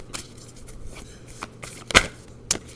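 Playing cards riffled and shuffled in short bursts, with several crisp flicks and a sharper snap near the end, close up and fairly quiet with no talking.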